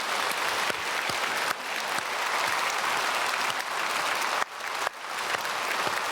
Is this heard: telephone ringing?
no